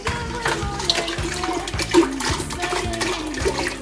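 Water pours steadily into a cooking pot being filled with about four litres over low heat, a continuous close splashing stream with background music underneath.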